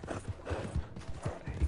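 Horse hooves clip-clopping in the video game Red Dead Redemption 2, a steady run of close, moderately loud hoofbeats with no talk over them.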